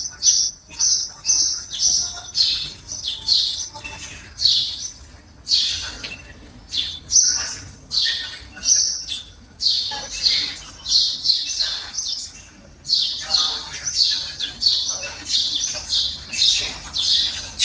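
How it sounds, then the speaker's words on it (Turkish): Birds sing outdoors in a lively series of high chirps and tweets, repeating in quick bursts across the whole stretch, fairly close and clear over a quiet background. "Çok güzel değil mi kuş sesi?"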